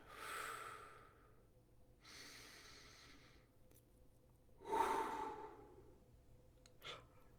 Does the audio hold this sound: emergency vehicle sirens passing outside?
no